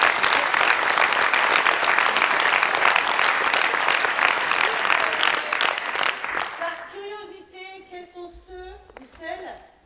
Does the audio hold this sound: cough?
no